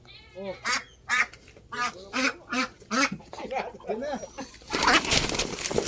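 Ducks quack loudly and repeatedly in a rapid, uneven series while being caught, the calls close and harsh, ending in a burst of flapping and scuffling noise.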